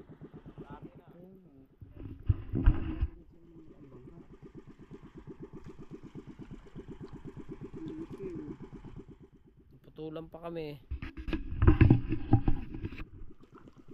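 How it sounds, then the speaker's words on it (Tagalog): A low motor drones steadily throughout, like a boat engine idling, while people talk over it in bursts. "Yan yung naririnig yung tunog ng makina"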